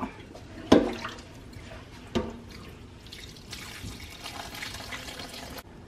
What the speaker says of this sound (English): Actually, I probably better go empty this strainer real quick.